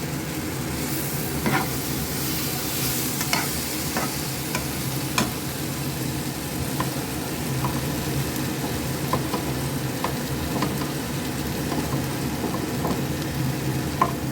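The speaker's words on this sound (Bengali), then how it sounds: "দেখো এটা ভালো করে সাঁতলানো হয়ে গেছে, পেঁপে আলুগুলো নরম হয়ে এসেছে।" Potatoes and papaya sauté in a pan with a continuous close sizzle. Spoon strokes against the pan scrape and tap at irregular intervals, and no voices are heard.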